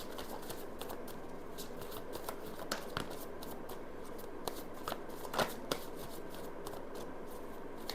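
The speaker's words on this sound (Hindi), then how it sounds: "last shuffle" Tarot cards shuffled continuously by hand, a steady close rustling and soft slapping with small taps, fairly even throughout and no talk.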